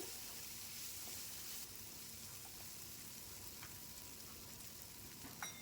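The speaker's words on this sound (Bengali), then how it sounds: "একটু ঢাকা দিয়ে দিয়ে ভেজে নিচ্ছি" Raw vegetables fry in a covered pan, giving a steady, even sizzle like light rain that runs through the whole stretch with no talking, plus a few faint clicks near the end.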